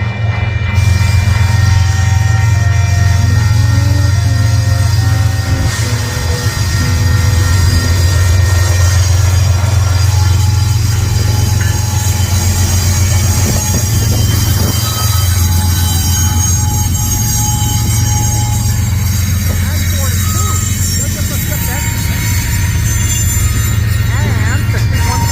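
Loud Union Pacific freight train rumbling past close by in St Paul, a deep continuous roar of rolling cars with horn-like tones early on and wheel squeal, sustained throughout, with occasional speech.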